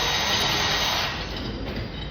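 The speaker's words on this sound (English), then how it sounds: "you see how long his drill's been running" A battery-powered drill runs continuously at a steady high whine, close and loud, with its pitch dipping slightly partway through as it works on an AC lift, with no talking.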